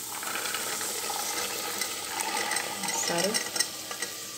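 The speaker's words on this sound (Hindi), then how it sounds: "और इसको थोड़ा सा मसाले में भून लेंगे।" Washed kidney beans tossed into hot oil and spices for rajma, giving a steady broadband sizzle with scraping stirs and a few clinks near the end, close and moderately loud, with a brief spoken word.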